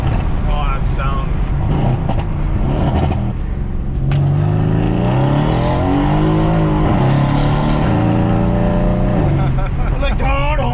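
Mercedes-AMG W205 C63S V8 roaring close by as it revs and climbs through the gears, the tone rising and falling in long sweeps, with people talking over the engine.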